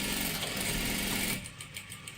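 Sewing machine stitching a salwar, a steady fast whirring run that stops abruptly partway through, leaving quiet room tone.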